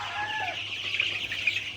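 Young broiler chickens raised for meat clucking softly, a faint flock chatter with a few brief higher calls.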